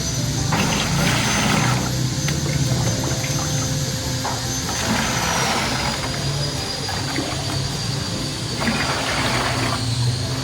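Water poured steadily into a 15-liter batik wastewater treatment machine, a continuous rushing, gurgling flow like a filling tank, close and fairly loud throughout with slight surges.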